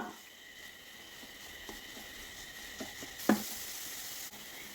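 Carrot and coconut laddu mixture is stirred in a pan, giving a faint low sizzle with a few soft scrapes and one brief louder clack near the end.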